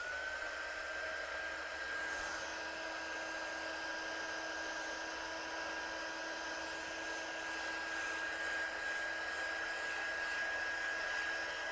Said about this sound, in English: let's just dry this off because it's still got that awful bump in there